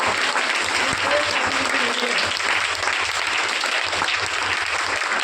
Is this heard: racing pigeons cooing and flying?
no